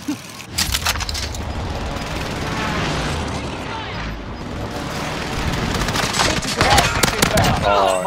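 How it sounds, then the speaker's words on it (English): An airstrike in a first-person shooter game hits with a sustained roar of rumbling blasts and crackling fire that swells toward the end, loud and chaotic. "Allied position airstrike incoming"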